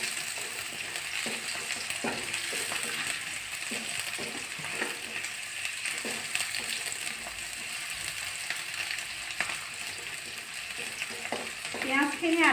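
Chopped onions frying in oil in a kadai with bay leaf and cumin seeds, giving a steady, even sizzle throughout with occasional light scrapes and clinks of a stirring utensil.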